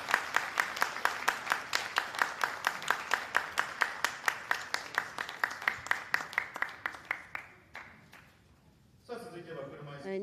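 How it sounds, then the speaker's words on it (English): An audience at a Tokyo Marathon press conference for wheelchair athletes claps in a steady, evenly spaced rhythm that gradually thins out and fades, and a voice speaks briefly at the end. "Please give them a big round of applause."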